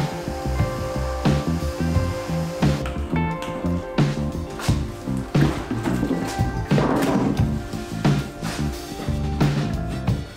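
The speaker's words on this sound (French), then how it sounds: "Pour les recoins difficiles d'accès, j'utilise un pistolet de sablage" A sandblasting gun blasts grit against metal 4x4 wheel rims to strip them, giving a loud, continuous rushing hiss broken by irregular thuds and knocks throughout.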